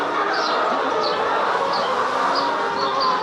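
Hens cluck and chirp softly in short repeated calls over a steady background hum, several birds close by.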